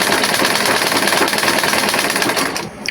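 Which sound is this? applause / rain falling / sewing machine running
sewing machine running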